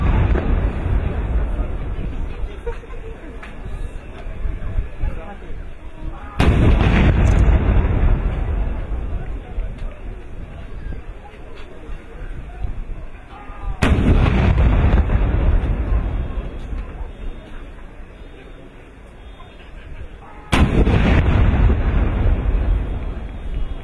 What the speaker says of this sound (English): A 21-gun salute to mark 44 years of independence.